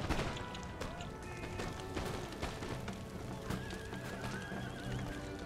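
Horses neighing and whinnying amid a battle in Empire: Total War, several overlapping calls over clattering hooves and scattered impacts, with dense battlefield noise throughout.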